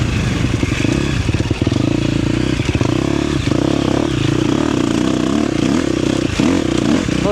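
Enduro dirt bike ridden through high desert terrain, its engine buzzing loudly and continuously with rising and falling revs and rattling clatter along the ride.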